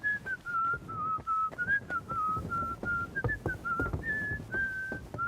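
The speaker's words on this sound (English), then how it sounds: "She was whistling quite nicely though." A woman in the video game Kingdom Come: Deliverance II whistles a wavering tune of sustained notes over about five seconds, clear and fairly close above soft background clatter and thumps.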